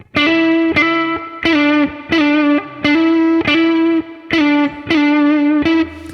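Distorted electric guitar plays quick repeated note figures in bursts, with short gaps between phrases, loud and close.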